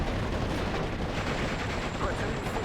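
Mortar rounds and small-arms gunfire crackle in a dense, unbroken barrage through a WWII Normandy battle in Steel Division: Normandy 44, with shots and blasts overlapping steadily from start to finish.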